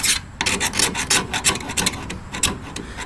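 Excess body filler scraped off a dent on a 1978 El Camino, quick repeated rasping strokes close up, loud and rhythmic with no talk.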